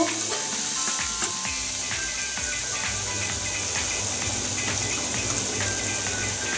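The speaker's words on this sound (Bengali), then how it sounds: "এবার পেঁয়াজটা ঢেলে দিচ্ছি। এবার পেঁয়াজটা লাল করে ভেজে নেব।" Chopped onion frying in oil in a pan for an egg curry, a steady sizzling hiss that holds through the whole stretch with faint clinks and no talking.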